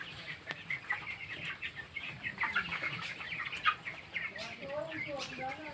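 Broiler chickens on a poultry farm, about nineteen days old, keep up a dense flock chatter of clucks and peeps with a brief wing flutter, and human speech is heard under them.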